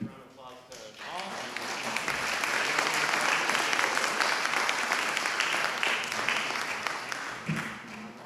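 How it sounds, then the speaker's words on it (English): Sustained audience applause at a public forum of a pond task force, dense and steady for several seconds, with brief talk at the start and end. "So let's give a round of applause to Paul."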